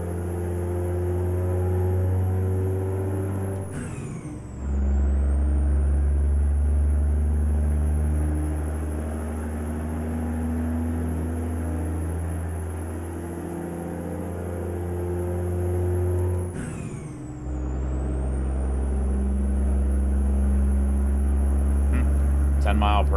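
A heavy truck engine in American Truck Simulator drones low and loud as it climbs a hill, holding a steady rumble with two brief gear-shift dips and a rising whine, running continuously throughout.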